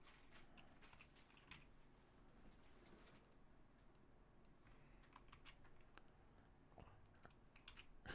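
Soft, faint clicking of typing on a computer keyboard, a sparse irregular patter of keystrokes over a quiet room background, with no talking.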